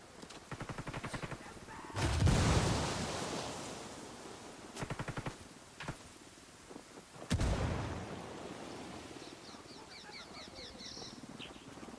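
A grenade explodes in the Ghost Recon Vietnam-era shooter game with two heavy, booming blasts. Rapid bursts of gunfire come before and between them, and faint bird-like chirps sit in the background.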